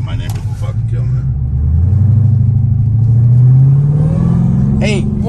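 An 850-horsepower Dodge Charger SRT Hellcat with a manual gearbox revs and accelerates on a back road, its deep engine rumble rising steadily in pitch, loud and close, with brief speech at the start and end.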